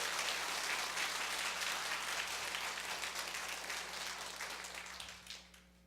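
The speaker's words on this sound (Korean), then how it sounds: "우리 특별히 다음 세대를 위해서 한번 박수로 격려해 주세요" A church congregation applauds to encourage the next generation, steady clapping filling the hall before thinning and tapering off near the end over a low hum.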